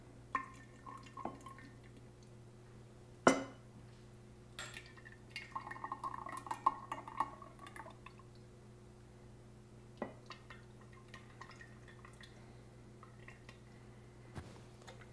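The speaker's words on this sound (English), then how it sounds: "pour a little bit of the culture that we had made the previous time" Kefir culture poured into jars indoors, producing quiet drips and small liquid splashes with a few sharp glassy clinks, sparse and intermittent over a low steady background hum.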